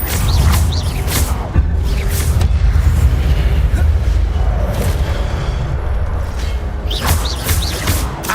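Incendio fire spells cast repeatedly during Hogwarts Legacy combat, booming fiery bursts and impacts over a loud, dense game soundscape, several blasts in quick succession.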